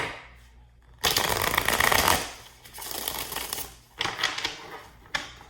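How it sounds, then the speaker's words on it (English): A deck of cards is shuffled for a card reading, with several quick riffling bursts of papery flutter separated by brief pauses, close and clear with no talking. "let me pull some more cards"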